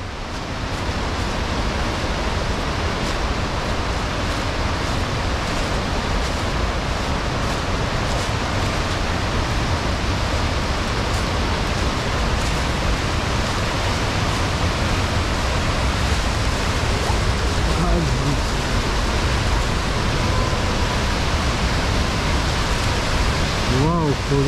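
A waterfall near old Italian bunkers on the Rapallo border line in Slovenia, a continuous broad rushing roar of falling water, steady and close throughout.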